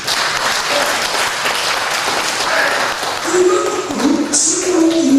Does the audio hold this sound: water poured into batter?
no